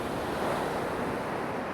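Sea breakers wash steadily onto an East Coast shore at night, a continuous close roar of surf with a little wind noise and no distinct breaks.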